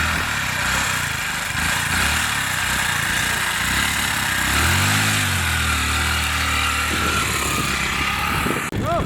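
A motorcycle engine starts and settles into a close, loud, steady idle with a rising and falling pitch sweep midway.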